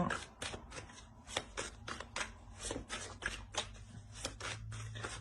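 Tarot cards being shuffled by hand, a close, steady run of crisp riffling slaps and flicks repeating in quick rhythm for several seconds, with faint low background hum.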